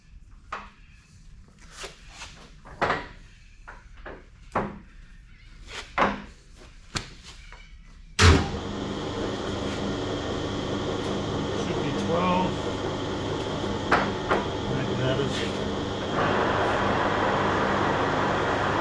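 A Heron K24 lathe starts at slow speed after a series of clunks and knocks from setting the gears, then runs with a steady mechanical hum and whir that steps up slightly in level near the end, a voice speaking briefly.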